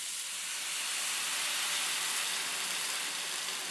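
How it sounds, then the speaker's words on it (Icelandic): Water splashed into a hot pan of browned soybeans throws off a loud, steady hiss of steam that holds unbroken for the whole stretch, close up and with no talking over it. "ég ætla að skella bara vatni hérna út í þetta"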